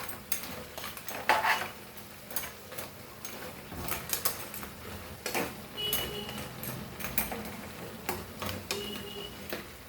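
Metal clinks and clatters as a pot of Goan cumin-pepper crabs is handled and covered with a lid, sharp ticking knocks scattered irregularly over a quiet kitchen background.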